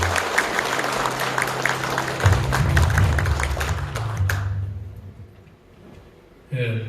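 Applause breaks out from an audience at an appointment ceremony for regional campaign committee chairs, steady clapping over a low hum that swells, then fades away, with a short burst of sound returning at the end.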